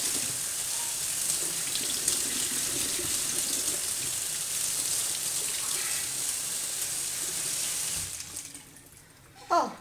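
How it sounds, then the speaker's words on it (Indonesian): Running tap water splashes steadily over an orchid being washed clean, a continuous close gushing that cuts off near the end, followed by a brief handling clatter. "Kita cuci sampai bersih."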